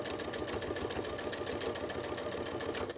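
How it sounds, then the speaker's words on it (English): Domestic sewing machine running steadily while stitching straight across a crazy patchwork block, a close, continuous mechanical whir with a rapid even needle rhythm throughout, no talk. "I'm going to sew straight across."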